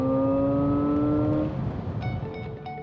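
An Alpine A290 electric hot hatch accelerates hard on kickdown, a clear rising electric whine up close that fades away after about a second and a half and leaves a low road hum with faint tones.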